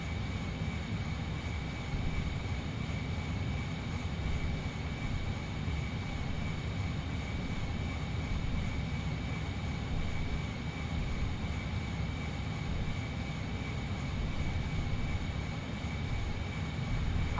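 Airbus A321 engines idling as the airliner taxis in the Prepar3D flight simulator, a steady broadband jet roar with a constant high whine that holds evenly throughout, with no talking.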